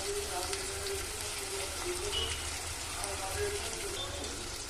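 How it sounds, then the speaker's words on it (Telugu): Onions and green chillies fry in oil in a pan, giving a continuous soft sizzle like light rain, steady and close. "ఆయిల్, ఉల్లిగడ్డలు, పచ్చిమిర్చి వేసుకొని మంచిగా వేయించుకోవాలండి"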